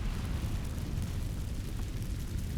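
Incendio fire spell cast in Hogwarts Legacy, a loud, continuous roaring burst of flame with a deep rumbling body that holds steady for the whole moment, no voices over it.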